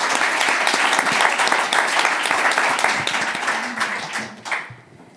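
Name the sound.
round of applause for the film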